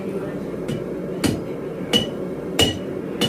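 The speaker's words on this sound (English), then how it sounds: "Actually, I have a soft hammer for this perfect job." A soft hammer strikes a blade in a forge workshop, five sharp close knocks spaced roughly evenly over a low background hum, with talking under the blows.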